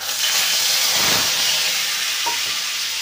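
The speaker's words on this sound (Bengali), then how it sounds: "এবার একটু কালো জিরে ফোড়ন দিয়ে দেব।" Black cumin seeds temper in hot oil with a loud, dense, continuous sizzling hiss. It stays close and steady throughout, with a faint clink partway through.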